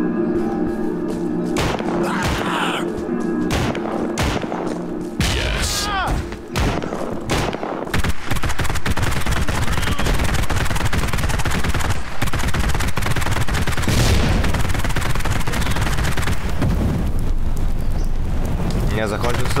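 Shotgun blasts and other gunfire come in sharp bursts in the Postal Redux video game. After a few seconds they turn into dense continuous firing and explosions, and someone talks over part of it.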